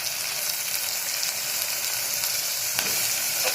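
Carrots, beans and peas sautéing in a pan give off a continuous, even sizzling hiss, close by, with only a faint tap or two of a spoon.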